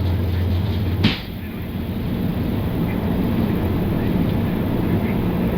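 Fiji Airways airliner engines at takeoff thrust during the takeoff roll, a steady, loud broadband roar filling the cockpit from start to finish with one brief thump near the beginning.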